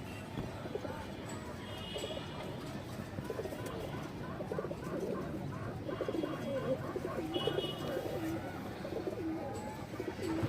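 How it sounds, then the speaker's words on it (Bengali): Pigeons of fancy breeds, including silver and mongoose-coloured birds, coo in low repeated phrases close by, over steady background hum with faint higher chirps, and no one speaks. "অনেক সুন্দর একটা কবুতর এই যে দেখেন"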